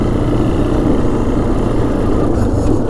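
Honda Foreman 400 ATV engine running steadily at idle, a constant close, loud low rumble with no break across the clip.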